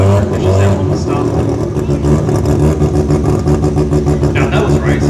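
A drag racing car roars on a grudge run at a Brisbane jamboree finals event, a loud, sustained engine blare with revving pulses, heard under a commentator's speech.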